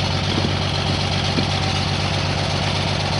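A car engine running in first gear gives a steady, continuous low rumble with a faint vibrating texture, heard close and unbroken throughout, with no voices.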